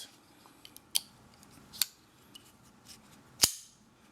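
A Spyderco Tenacious folding knife, freshly lubricated, with its blade dropping closed: three or four crisp, close metallic snaps spaced apart in a quiet room, the last one loudest.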